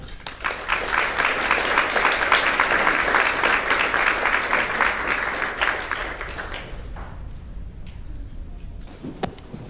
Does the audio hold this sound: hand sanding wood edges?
no